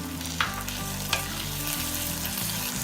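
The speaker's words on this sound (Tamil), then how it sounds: "நல்லா வதக்கிடுங்க, நல்லா மிக்ஸ் பண்ணிக்கோங்க." Tomato chutney sizzles steadily in hot oil in a pan while being stirred, a continuous close frying hiss broken by two sharp spoon clatters and scraping.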